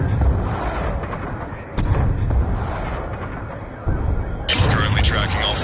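Lodestar killstreak strike fire in Call of Duty Black Ops 2 on the Nuketown map: loud, dense artillery-like booms and gunfire roll steadily, with a sharp burst near two seconds and a brighter blast near the end, under radio chatter.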